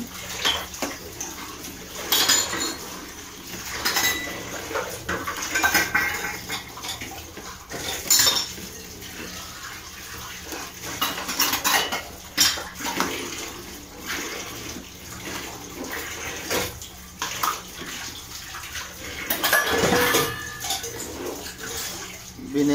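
A spoon scrapes and clinks against a pot while milk is stirred to make paneer at home, with repeated irregular metallic strokes over a steady kitchen background and no talking.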